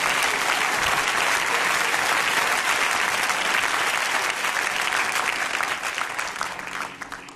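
A church congregation claps and cheers in acclaim of the Lord during an Easter sermon, sustained dense applause that fades slightly near the end.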